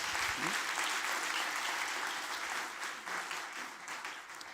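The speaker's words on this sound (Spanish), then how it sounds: "un enorme aplauso de reconocimiento, por favor" An audience applauds loudly and steadily, a thick wash of clapping that fades slightly toward the end.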